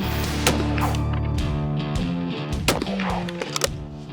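Browning GP Sporter shotgun fired at clay targets outdoors: several sharp, loud report transients in a short burst, the sharpest bunched toward the end, over a steady tonal hum.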